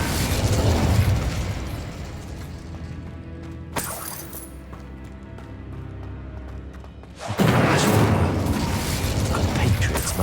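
Incendio fire spell cast in Hogwarts Legacy, a loud whooshing burst with explosive crackle at the start, a sharp pop near four seconds, a quieter lull, then another heavy blast of roaring flame.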